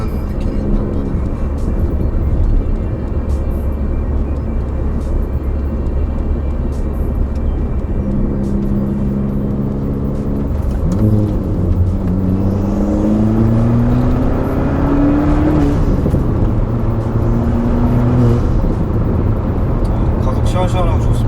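A 2019 Hyundai Veloster 1.6T with a manual gearbox and variable exhaust, engine droning then revving up through gears with rising pitch sweeps, loud and steady from inside the car, with people talking over it.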